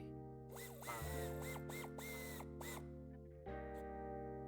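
A power tool runs steadily while tightening the original nut onto an antenna mount beneath a tow hitch on a 2023 Volkswagen T-Cross, a continuous motor whine with pitch shifts and a brief surge partway through, close and alone.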